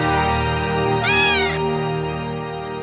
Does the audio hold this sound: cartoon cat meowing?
yes